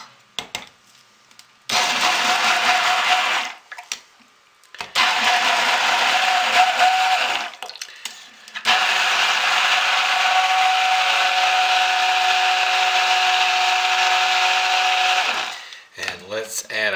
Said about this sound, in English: let's take our stick blender and mix it in